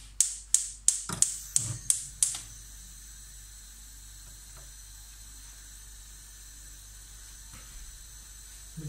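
A gas stove burner under a pot of mussels is lit with a quick run of about seven sharp igniter clicks, then a soft, steady burner hiss with occasional faint taps.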